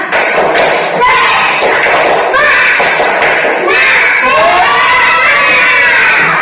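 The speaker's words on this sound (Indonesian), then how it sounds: "Tepuk semangat." A primary-school class does a rhythmic spirit clap, loud patterned claps and thumps mixed with children's chanting voices close in the room, in a few bursts across the stretch.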